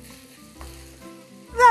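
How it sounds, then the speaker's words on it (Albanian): Lamb pieces sauté in a pan for an oven-baked pilaf, giving a low, steady sizzle that swells into a loud, hissing burst at the very end. "Nuk përbën problem, sepse e gjitha të kaloj në kaurdisje."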